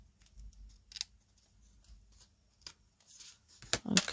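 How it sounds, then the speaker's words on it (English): Scissors snip through paper while cutting a scrapbooking double-page layout: a few quiet, separate cuts with soft rustling between them, ending in a louder cluster of close snips. "I just cut hopefully in the middle, do 1 cut in from the side"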